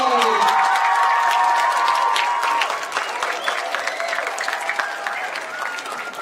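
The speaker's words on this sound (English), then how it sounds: "Can't believe you knew to cheer for me like that, guys." A school assembly crowd of children applauds and cheers loudly for a newly introduced PYP coordinator, dense clapping with shouts at first, then thinning to scattered claps and chatter.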